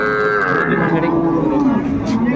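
Dairy cows and calves of Sahiwal, Sindhi and local breeds at a rural cattle market in Ambari give a loud, drawn-out moo close by, with livestock-market commotion steady underneath.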